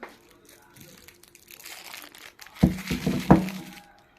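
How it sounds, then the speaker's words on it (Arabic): A plastic bag of frozen cabbage crinkles and crunches as it is handled up close, the rustling building in bursts, with a few brief sharp crackles near the end. "أنا مطلعة كيس كرنب من الفريزر"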